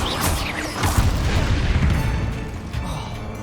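A fiery Confringo spell explosion in the video game Hogwarts Legacy: a loud, dense boom with crackling blast debris that swells, then slowly fades into a rumbling tail, with no talking.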